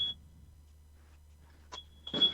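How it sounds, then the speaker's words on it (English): A short high electronic beep from a fire alarm sounds once at the start and again near the end, faint and alone against a low steady room hum, with a burst of rustling noise at the close. "Yeah, that's the fire alarm thing."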